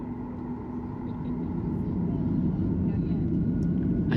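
Airliner accelerating down the runway on takeoff from Sydney, heard from inside the cabin as a steady, building engine roar and rumble with no talk over it.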